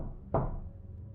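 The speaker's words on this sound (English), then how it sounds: "It was well past midnight when a knock at my door forced me up." A single dull knock lands on a door in a quiet room, one short thud with a faint low hum lingering after it, used as a horror story sound effect.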